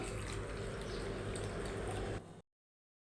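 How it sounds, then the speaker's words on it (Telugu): Tap water running steadily over half a cup of barley being rinsed, a continuous splashing stream that stops abruptly near the end, followed by near silence. "బార్లీ ఒకసారి శుభ్రంగా వాష్ చేసుకుందాం"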